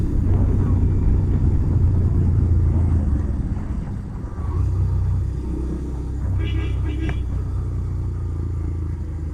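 A Bajaj Pulsar 150 Twin Disc BS6 motorcycle being ridden, its engine a steady, loud, close rumble throughout with a brief dip midway, under continuous wind and road noise.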